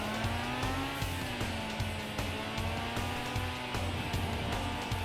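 A Lancia rally car in Gran Turismo 5 drives under a steady, high-revving engine drone, with the pitch shifting through gears and faint tire noise, loud and continuous.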